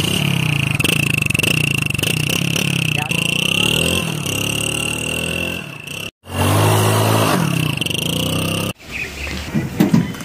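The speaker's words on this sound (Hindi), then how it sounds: "अलग लगाएंगे एग्जॉस्ट इसमें। इसका साउंड आपको कैसा लगा ये कमेंट में बताना" A modified Mahindra Jeep engine idles and revs loudly with a rough, throaty exhaust, briefly cutting out, while people talk nearby.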